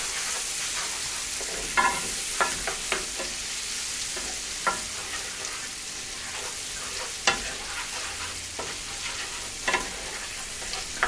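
Onions sizzle in a hot pan, a bright, continuous frying hiss close by, broken by occasional scraping clicks as they are stirred.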